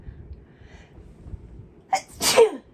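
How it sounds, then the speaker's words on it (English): A single loud sneeze bursts out near the end after a quiet stretch, preceded by a short sharp intake of breath. "And I'm going to sneeze."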